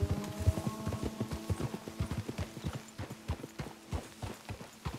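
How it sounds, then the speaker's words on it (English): Horses clip-clopping in Red Dead Redemption 2, a brisk run of hoofbeats with a faint whinny-like tone, fading slightly toward the end. "Let's leave the horses off the road to the right here"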